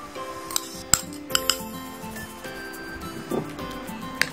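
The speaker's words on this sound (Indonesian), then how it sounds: "Baru kemudian campurkan kocokan telur tadi ke dalam mie." Beaten egg is stirred into noodles with metal utensils, giving scattered light clinks and scrapes against a bowl over soft background hum.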